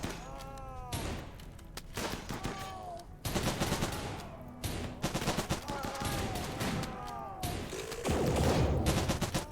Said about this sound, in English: Oh, they're firing their lasers.